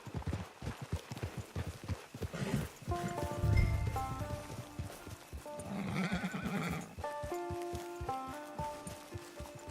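Horse whinnying and hooves clip-clopping in the Western open-world game Red Dead Online, a neigh rising mid-clip over steady hoof falls, layered with the game's music.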